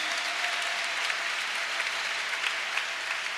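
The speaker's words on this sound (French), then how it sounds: "Acclame le Seigneur Jésus" A church congregation applauds steadily throughout, a dense, even wash of clapping from many hands with no pauses, fairly close and filling the room.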